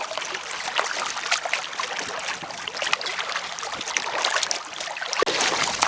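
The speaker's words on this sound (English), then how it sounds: "Paddling Honeymoon Lake." Canoe paddled across a mountain lake in Jasper National Park, steady water swishing and dripping from the paddle strokes, close and continuous with a few splashes and no talk.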